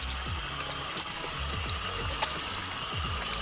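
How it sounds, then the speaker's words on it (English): Steady running tap water splashing into a sink while a face is washed, a continuous close gush with small irregular splashes of hands moving through the stream, no voices. "let me actually wash my face first"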